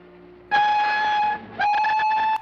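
A steam-era train whistle from the 1957 film Black Scorpion sounds in two loud, sustained blasts, the first about a second long and the second after a brief gap, set against faint background noise.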